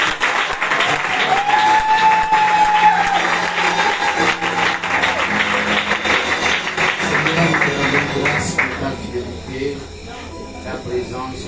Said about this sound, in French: Acclamez encore Papa Béni